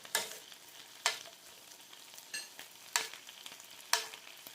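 Chicken pieces fry in a pan with a soft background sizzle, broken by four spaced bursts of scraping or stirring about a second apart, fairly quiet and close, with no talking.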